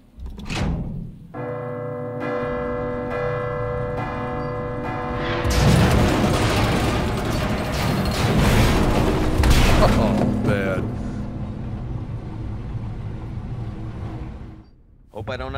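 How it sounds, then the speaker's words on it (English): In the Resident Evil 2 Remake video game, a bell gives a ringing, tonal clang, then falls with a loud crashing bang and rumbling debris that fades. Someone talks over it. "There's gonna be a loud bang, probably, because the bell's gonna fall."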